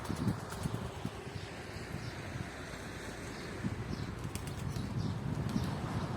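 Pigeons flap their wings in flight, a soft fluttering that comes and goes against a constant outdoor wind.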